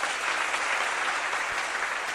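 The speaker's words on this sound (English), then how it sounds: "let's give our mayor of Baltimore City a big round of applause" Audience applause honoring the mayor of Baltimore City, a steady, dense wash of clapping that holds evenly loud throughout with no talk over it.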